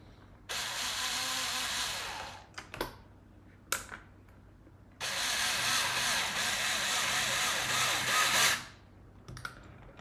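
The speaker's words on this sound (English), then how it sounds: "It's just a USB rechargeable drill, and it's amazing for like this small stuff" A small Ryobi USB rechargeable drill drives a screw while an Ethercon breakout is assembled, two sustained close whirring runs of about two and three seconds, separated by short clicks and handling knocks.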